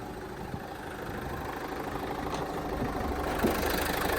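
A 2016 Renault Master L3 H2 van's diesel engine idles steadily and fairly quietly, a low even rumble with a faint regular knock, heard from close by.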